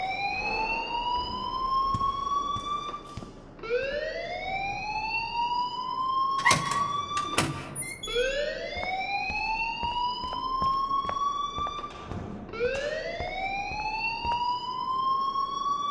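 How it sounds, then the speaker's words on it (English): An alarm rings in the Life Is Strange video game: a loud electronic siren repeatedly sweeps upward in pitch, each rising wail lasting a few seconds, with brief clicks and clatter mixed in. "please turn off that alarm since that's your job"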